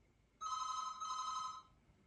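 A telephone bell rings in one continuous bright burst of a little over a second, fairly close and clear over a quiet room, then stops.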